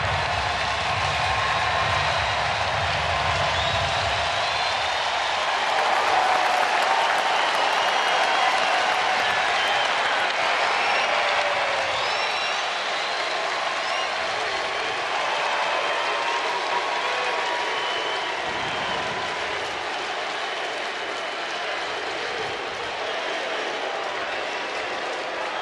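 A baseball stadium crowd at an Athletics versus Angels game stands and applauds, a broad, sustained wash of clapping and cheering from many people that holds steady for the whole stretch.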